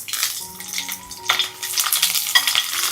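Garlic cloves and dried red chilies fry in coconut oil with a busy close sizzle, bursts of stirring scrapes and a few faint tonal clinks from the pan.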